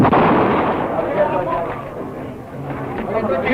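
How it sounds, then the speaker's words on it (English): A gun explodes in a 1938 Bulldog Drummond film, heard as a loud blast right at the start that decays into a rumbling roar on a boomy old soundtrack, with voices mixed in. "My gun exploded."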